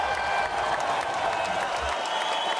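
A crowd at a marble race event applauds and cheers steadily for the winner, a dense, continuous wash of clapping and voices held at an even level throughout.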